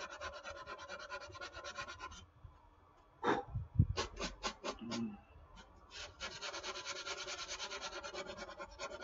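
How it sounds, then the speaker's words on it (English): Hand sanding scrapes over an epoxy glue repair on foam in steady, close back-and-forth strokes, stopping briefly for a few sharper rubbing and handling sounds before the even rhythm resumes. "This stuff sands really easy too. This is just like the Gorilla Glue. It sands super easy."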